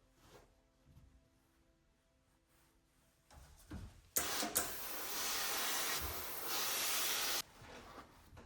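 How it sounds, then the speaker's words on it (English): Steam iron hissing as it presses fusible interfacing onto coat fabric, a sudden loud burst of steam that holds steady for about three seconds and then cuts off, with softer handling sounds before it. "Continue ironing on the interfacing on the other side."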